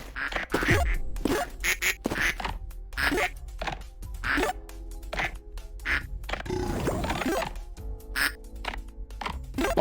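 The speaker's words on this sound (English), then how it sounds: "The sounds of the ducks are quite satisfying." Ducks quack in a video game, a rapid series of short, close quacks over a soft musical background, with a few overlapping calls in the middle.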